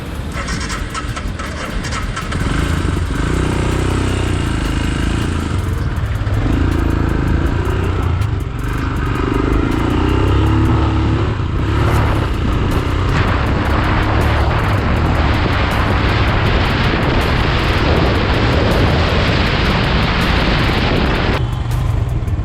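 A motorcycle, a Royal Enfield Himalayan or a Bajaj Dominar, is ridden around an abandoned quarry in Chennai, its engine a loud, continuous roar mixed with heavy wind rush throughout.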